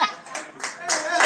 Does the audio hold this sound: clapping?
yes